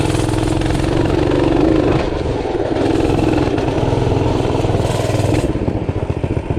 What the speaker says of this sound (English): And I gotta blip the throttle to get the clutch to disengage.